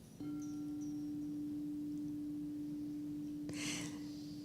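A singing bowl representing the second chakra is struck once and rings with a pure, sustained tone, joined later by a brief soft rustling noise.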